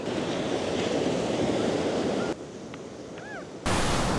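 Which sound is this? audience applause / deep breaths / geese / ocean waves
ocean waves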